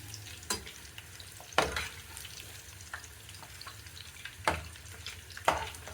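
Kebabs frying in a pan on low heat give a quiet, constant sizzle, with scattered spatula clacks and stirring scrapes every second or so, heard up close.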